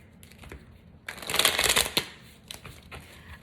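Tarot cards being shuffled: soft riffling and slapping bursts, quieter at first, then a loud sustained flurry in the middle and a few lighter shuffles after, close and with no talking.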